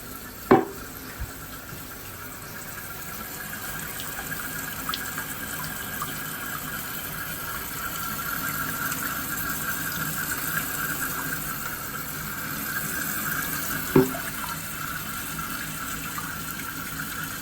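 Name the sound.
toilet fill valve refilling the tank with water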